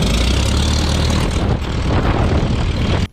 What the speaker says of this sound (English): I'm commencing engine start.